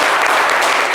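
A studio audience at a live show gives a short burst of dense, loud applause, continuous for the full second with no speech.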